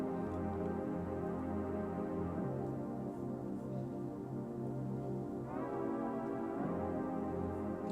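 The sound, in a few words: synth pads in an amapiano remix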